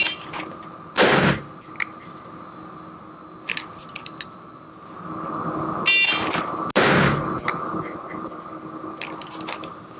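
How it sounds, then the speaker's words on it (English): During rifle drill training, a sharp electronic shot timer buzzer sounds and is followed a moment later by a loud rifle shot. Another loud shot rings out earlier, and quieter handling clicks and rustles fill the gaps. "Shot timer buzzer will go off."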